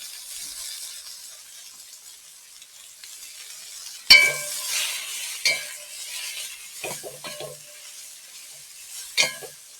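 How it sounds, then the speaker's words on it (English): Pimento berries stirred in a pot of hot oil for Jamaican escovitch barracuda, a soft sizzle that turns to louder clattering scrapes and stirs partway through. "I'm adding some pimento berries to the pot. You want to give that a good stir."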